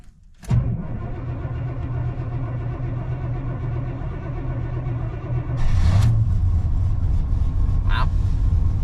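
A V8 hot rod engine cranks and fires on a cold morning around 29 degrees, catching quickly and settling into a loud, steady rough idle that swells slightly partway through, with a brief higher-pitched squeal near the end.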